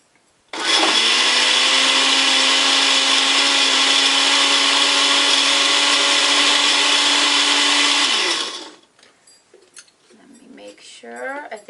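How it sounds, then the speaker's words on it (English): A countertop blender whirs loudly and steadily for about eight seconds, blending a green protein drink, then cuts off, leaving faint clatter and a voice. "we're going to blend it"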